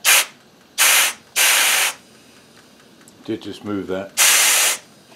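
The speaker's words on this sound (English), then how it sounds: "just get that little puff of air" Four sharp bursts of compressed air from a foot-pedal operated air blast nozzle on a milling machine, the third longest and the last after a pause, each hissing loudly and cutting off abruptly, with someone speaking briefly between them.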